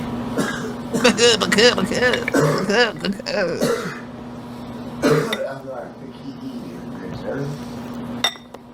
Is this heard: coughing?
yes